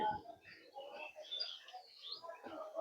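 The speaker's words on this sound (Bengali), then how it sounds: "এখানে দেখো কি সুন্দর পাখির আওয়াজ হচ্ছে" Faint birds chirp and tweet in scattered, overlapping calls, with a soft, distant quality throughout.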